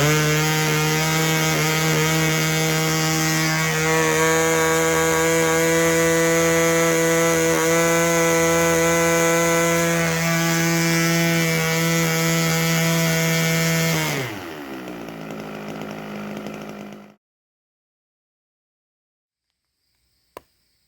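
A 32-year-old nitro model airplane engine idles rich with a buzzing, popping drone for about fourteen seconds, then winds down and cuts off into silence, followed by a single small click.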